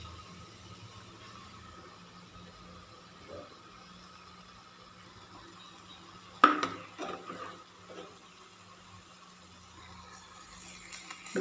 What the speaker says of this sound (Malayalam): നമുക്കിനി എല്ലാം കൂടെ കൂട്ടിയിട്ട് ഒന്ന് വഴറ്റിയെടുക്കാം